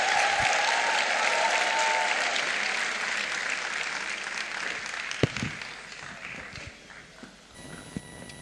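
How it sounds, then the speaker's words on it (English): A room audience at a welcome address applauds with dense clapping that gradually fades, leaving a few scattered claps and small thumps near the end. "Please, with a resounding round of applause, help me invite the Chair, Program and Membership Committee for the welcome address"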